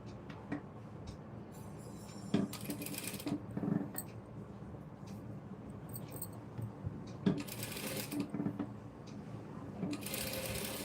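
A sewing machine stitches a blouse lining in several short bursts of rapid mechanical whirring, with brief pauses and small clicks between runs.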